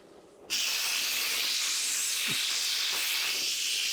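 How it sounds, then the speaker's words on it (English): A pressure cooker suddenly starts releasing steam, a loud continuous hiss that stays steady after the abrupt onset. "Now that this is done releasing the steam"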